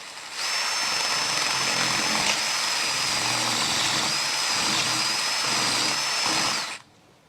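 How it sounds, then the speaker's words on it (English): A power drill bores into the spark plug hole of a blown-up 327 engine, a steady high-pitched whine running for about six seconds before cutting off abruptly, loud and close with no talking. "And let's drill it."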